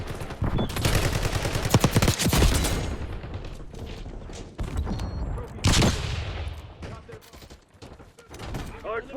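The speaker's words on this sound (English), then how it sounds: "Enemy marksman shooting." Rapid gunfire from an enemy marksman in Call of Duty: Black Ops 6, dense bursts of shots and impacts with game voice callouts and effects mixed over a busy, loud battlefield.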